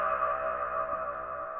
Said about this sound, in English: when the filter goes down, the reverb goes up, which creates a kind of feeling that the object is moving away in a cave or something